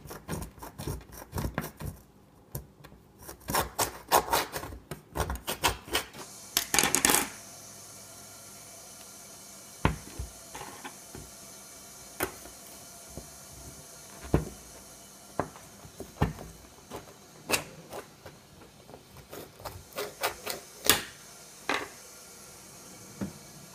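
Scraping and rasping strokes as a small rock sample is cut or sawn, with irregular gritty bursts and scattered sharp clicks, loud at first and then sparser, close up.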